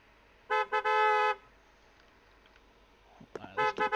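A car horn honks in a street in Gym Simulator 24: a quick double toot followed by a longer blast, then another burst of short honks a couple of seconds later, loud and close with no talking.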